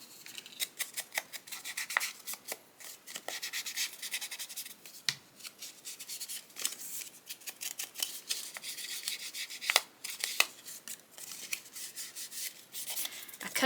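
Ink is worked onto the edges of a paper corner tuck pocket with repeated soft rubbing and dabbing strokes, close and quiet, with irregular scratchy taps.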